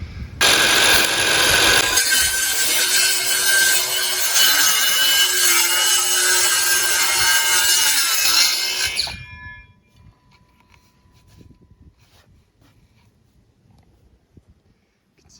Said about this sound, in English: You can see how quickly and effortlessly the saw cut through the plywood there.